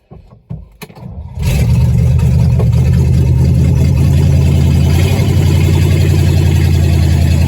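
A 1959 Edsel engine with no exhaust cranks and catches, then roars into a loud, steady, rough idle with a deep rumbling throb that continues to the end.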